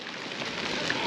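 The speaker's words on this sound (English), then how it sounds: "Oh man, that's some big hail." Large hailstones fall at a campsite near Creede, Colorado, a dense, close rattling patter of ice hitting the ground and surfaces, steady and fairly loud over a brief moment.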